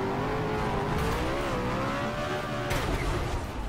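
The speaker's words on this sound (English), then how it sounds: "give it full throttle" A vehicle engine revs at full throttle in BeamNG.drive, a steady loud drone whose pitch rises and falls slightly. A brief surge of roar breaks in partway through.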